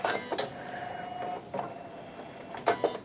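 Automatic needle threader on a Janome MC15000 sewing machine working after a button press: a few short mechanical clicks and a soft motorised whir, quiet and close, with no voices.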